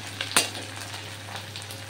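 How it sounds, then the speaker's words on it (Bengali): Onions fry in oil tempered with five-spice beside frying fish, a soft steady sizzle with a sharp utensil knock near the start and light stirring scrapes throughout. "পেঁয়াজটা ভাজা হতে হতে"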